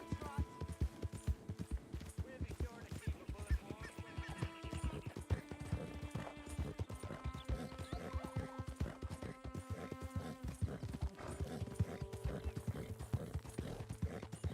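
A horse clip-clops at a steady gait in Red Dead Redemption 2, its hooves close and rhythmic under game music with occasional whinnies.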